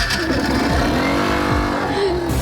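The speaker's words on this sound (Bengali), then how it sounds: "চল, বাইক স্টার্ট দে।" A motorbike engine runs loud and close, its note rising and falling as it revs for a couple of seconds.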